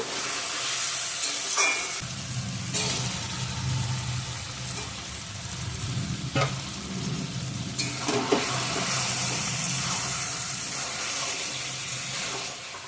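Pre-fried potatoes tipped into a hot pan for a red chicken curry, a soft sizzle with a low rumbling thud as they land, followed by intermittent scrapes and clatters of stirring, fairly quiet.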